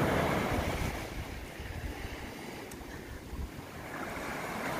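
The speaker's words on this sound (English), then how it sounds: "So I'm stranded on a deserted beach" Surf rolls in on a deserted beach in New Zealand's Abel Tasman National Park, a continuous washing roar with some wind buffeting the microphone and no voices.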